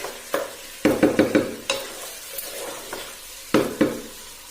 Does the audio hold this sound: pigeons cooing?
no